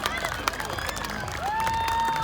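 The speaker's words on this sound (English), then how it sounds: "Let's give him a big round of applause." An audience claps and cheers at a night airshow of full-size aircraft, a steady outdoor patter under a loud announcer's voice and a tonal engine or whistle sound.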